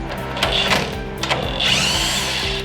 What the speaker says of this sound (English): we're gonna hold this while we unbolt it